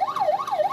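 Police car siren leading ambulances through a mountain tunnel route, a loud wailing tone sweeping smoothly up and down in a fast regular cycle, about two sweeps in under a second.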